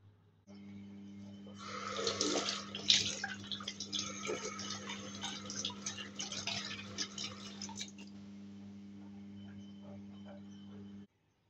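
Bananas rinsed under a running tap, a steady splashing gush of water that starts abruptly and flows for several seconds with uneven spatters, then cuts off, over a low electrical hum.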